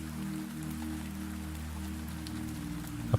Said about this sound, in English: The rain continues at its own patient pace.